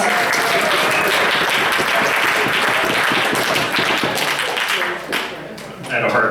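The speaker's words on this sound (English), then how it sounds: "Can we give Brian a big round of applause?" An audience at a planning session gives tech guy Brian a loud, sustained round of applause, thick clapping for about five seconds before it dies down and a few voices begin talking.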